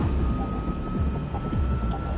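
Low droning airplane cabin noise in Metal Gear Solid 3: Snake Eater, a steady engine rumble with a thin sustained tone and faint clanking, continuous and moderately loud, with no speech.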